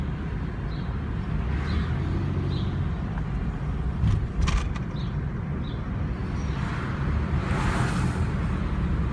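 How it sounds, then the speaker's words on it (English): A car cruising through Hamtramck, Michigan streets with the windows down, steady low road and wind rumble with faint passing traffic and occasional brief clatters, no talking. "I'm just driving with the windows down."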